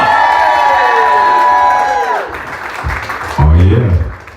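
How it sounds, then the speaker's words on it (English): Audience applause and cheering at a hip-hop event greeting a founding member of the Sugar Hill Gang, a loud burst of crowd noise and whoops that fades under a speaking voice, then swells again briefly at the end. "Give him a round of applause."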